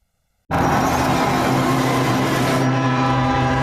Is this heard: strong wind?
no